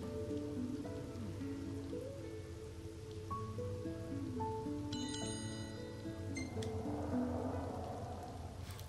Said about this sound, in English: Camping sucks when it rains.